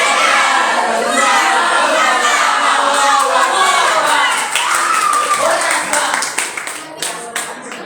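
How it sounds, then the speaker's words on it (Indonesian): A crowd at an Indonesian organization's inauguration ceremony gives loud, dense applause with some cheering and children's shouts mixed in. The clapping thins out and fades near the end. "beri tepuk tangan yang meriah sekali lagi untuk Dewan Tuan Kaderisasi"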